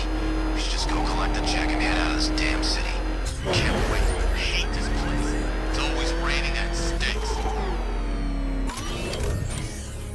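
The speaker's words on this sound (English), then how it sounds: "You got a Batmobile. It's coming for you." In the video game Batman: Arkham Knight, the Batmobile drives with a steady engine hum and mechanical whirring under loud game dialogue and voices, with a sudden jolt partway through.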